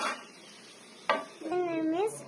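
A metal lid clanks once onto a cooking pot of chicken for frying. A brief kitchen clatter comes first, and a person's voice follows right after the clank.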